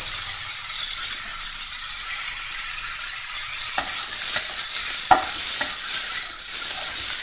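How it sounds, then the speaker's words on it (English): Onions and tomatoes frying in a pan for garlic kuzhambu, a loud, constant hissing sizzle joined midway by a few sharp clinks and scrapes of stirring, close up with no voices. "the onions are fried well to golden brown color"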